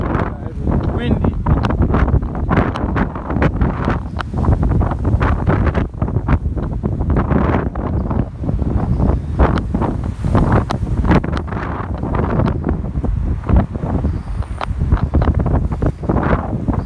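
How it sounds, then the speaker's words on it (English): Strong wind buffets the microphone in steady roaring gusts on a Cape Town street near St. John's Mall, loud and close throughout, with faint street sounds underneath. "Windy."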